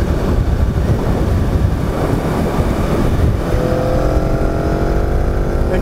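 A 2018 Aprilia RSV4RR sportbike engine droning steadily while riding, with heavy wind rush over the microphone and a higher rising engine tone near the end, no talking.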